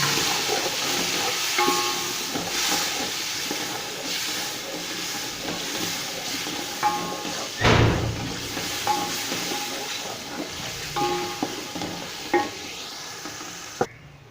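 Steady sizzling of tempering spices in hot oil for kadhi, a continuous hiss with occasional stirring clinks and a louder clatter partway through; no voices.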